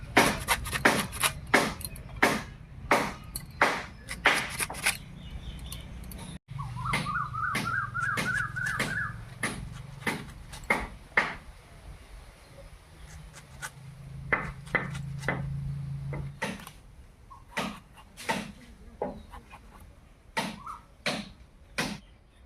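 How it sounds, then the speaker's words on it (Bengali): A knife chops tomatoes and garlic leaves on a cutting board in a home kitchen, with crisp, close knocks in quick steady runs separated by short pauses and a faint hum beneath. "এবারে দুটো টমেটো আর সঙ্গে কয়েকটা রসুন পাতাও কেটে নিচ্ছি"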